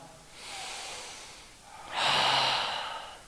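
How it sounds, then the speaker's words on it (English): Two full, deep breaths during a legs-up-the-wall exercise in a fitness class: a softer drawn inhale followed by a louder, rushing breath close to the microphone, with no talking. "We're going to do 3 full breaths here."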